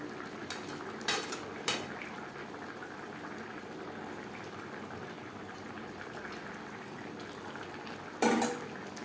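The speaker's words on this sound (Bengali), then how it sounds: "গ্রেভির সাথে মাছ ও মাছের মাথা বেশ ভালো করে মিক্সড করে দেবো।" Snakehead fish pieces and fish heads are stirred into gravy in a pan over a soft, steady simmering bubble, with a few sharp clinks of a utensil against the pan near the start and end.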